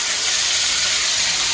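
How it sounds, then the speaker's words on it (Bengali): Ginger, cumin and garlic paste hitting hot oil in a pan for egg korma, giving a loud, steady, broad hiss that holds without a break. "তো আমি ওই গরম তেলের মধ্যে দিয়ে দেবো এবার হচ্ছে আদা জিরে আর রসুন বাটাটা"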